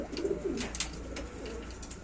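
Fancy pigeons, including Kalo Sobuj, Chini Kaldum and Saharanpuri Napta breeds, coo softly and close by in a short run of low throaty calls.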